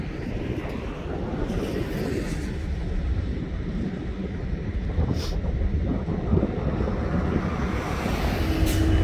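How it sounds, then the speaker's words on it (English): Strong wind blows across the microphone at a rail yard, a steady, loud rumbling buffet that continues throughout with no voices. "Windy and really cold up here as well."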